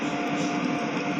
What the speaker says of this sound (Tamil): நம்ம ட்ரெயின் வந்துட்டு இருக்கு ஃப்ரெண்ட்ஸ்.